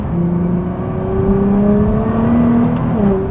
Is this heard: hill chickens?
no